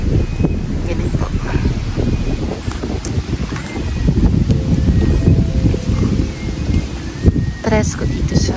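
Steady wind buffets the microphone on open farmland ringed by trees, a continuous rumbling gusting roar, with a dog barking somewhere and a person talking over it.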